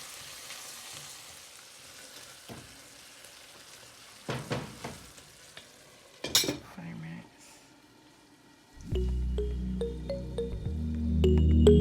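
Minced keema sizzles and fries in a pan on a home stove, a steady close crackle broken by a few sharp clinks of a spoon against the metal as the meat is stirred.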